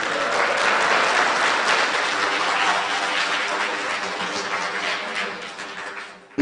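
Sustained applause from an auditorium audience for junior presentation contest winners, dense and even clapping that slowly thins toward the end.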